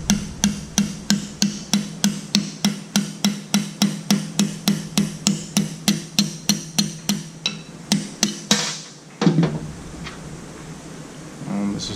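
A pilot bushing is removed from a Nissan 240 SR20 engine being fitted with a 350Z transmission, with about thirty sharp, evenly spaced metallic hammer blows ringing close up, followed by a short clatter and quieter handling noise.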